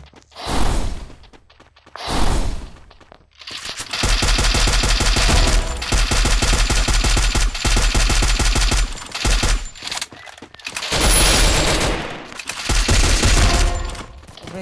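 Rapid automatic gunfire crackles in repeated loud bursts, with short single shots at the start and long sustained volleys after, during a battle royale video game fight with headshots.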